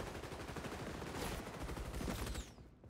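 Rapid bursts of AA12 automatic shotgun fire in the shooter game XDefiant, dense overlapping blasts for a few seconds before trailing off, loud and close.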